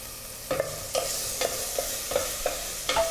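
Cooked rice is stir-fried in a small home pan, with a steady low sizzle broken by about seven sharp, regularly spaced scrapes and clinks of the spatula against the pan.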